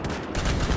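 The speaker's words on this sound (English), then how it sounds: "These walking siege cannons that just sit down, get comfortable, and then drop some big" Giant walking mech siege cannons in a war video game fire heavy payloads on an enemy line, a dense, continuous rumble of booming blasts and gunfire that holds loud and steady throughout.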